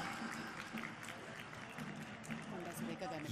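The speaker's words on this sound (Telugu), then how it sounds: "ముఖ్యమంత్రి ఈ సందర్భంగా కృతజ్ఞతాపూర్వకంగా గట్టిగా చప్పట్లతోటి మన అభినందనలు తెలియజేసుకుందాం" An audience at a women's empowerment scheme launch applauds the Chief Minister, with steady, fairly faint crowd clapping throughout and voices mixed in.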